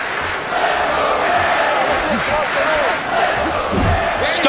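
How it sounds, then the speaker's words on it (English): A dense arena crowd roars steadily throughout a UFC 3 video game bout, Cain Velasquez versus Frank Mir at UFC 146, with indistinct voices mixed into the constant wash. "Man, this crowd tonight really loves Cain Velasquez"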